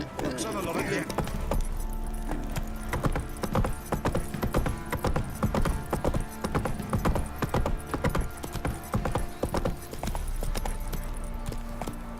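Roach, the horse in The Witcher 3, gallops in a fast steady clip-clop of hooves with jingling tack, and someone speaks briefly near the start.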